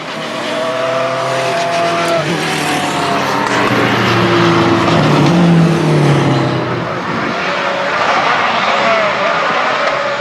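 Race cars launch from the grid at the start of a championship race at Mondello, a loud, dense roar of engines rising and sustained with pitch sweeps as the field accelerates away.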